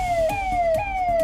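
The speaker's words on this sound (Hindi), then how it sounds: "ये सायरन की आवाज वो आहट है जो बदमाशों को अच्छे से महसूस हो रही होगी" Police siren of a UP 112 emergency vehicle, a loud electronic wail that sweeps down and snaps back up again and again at a fast, steady rate, close by with a faint road rumble underneath.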